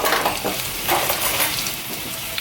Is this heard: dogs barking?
no